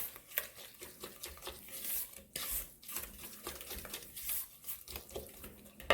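Spoon stirring brownie batter with eggs in a bowl, a busy wet scraping and clinking that goes on steadily for several seconds at close range with no voices.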